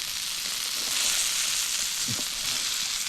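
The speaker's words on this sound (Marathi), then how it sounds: "बांगडे पण आता चांगले फ्राय झालेले आहे काढून घेऊया आपण" Bangda mackerel frying in oil over a wood-fired chulha outdoors on a farm field bund, a steady dense sizzle throughout, close and even, with a faint scrape near the end and no speech.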